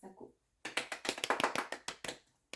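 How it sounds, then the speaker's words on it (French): A short burst of hand clapping from a small group, sharp irregular claps for about two seconds after a pause, then fading out. "Tonnerre d'applaudissements pour Khadija Sako."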